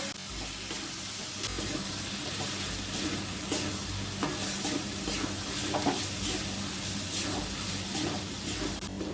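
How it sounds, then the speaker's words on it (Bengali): Spices and tomato are stir-fried in a pan for ghugni, a dense, continuous close sizzle with repeated scraping stirs and clicks throughout, with no voices. "মশলাগুলো সব একসাথে দিয়ে ভালো করে কষিয়ে নিলাম"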